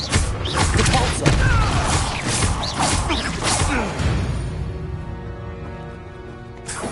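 Repulsor spell cast in Hogwarts Legacy: a dense burst of whooshing force, creaking and thudding impacts over the first four seconds, then tailing off into sustained tonal game music.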